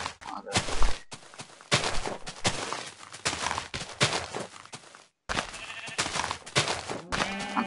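Sheep in a video game bleating repeatedly, loud short cries spaced by brief pauses, with no talking over them.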